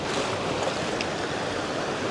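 Clear river water runs over stones in a forested spot, giving a steady, dense rushing babble that stays even and close throughout, with no talking.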